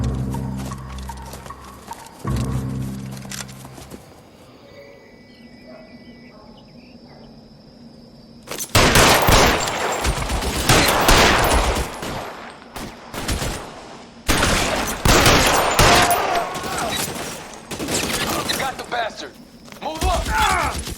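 Gunfire during a shootout in the video game L.A. Noire, dense bursts of loud shots from about nine seconds on, following a quieter stretch with a voice and insect-like ambience.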